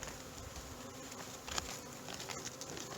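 Honey bees buzz steadily inside an open, healthy hive during a March colony check, a dense close hum with small bumps and shifts and no talking.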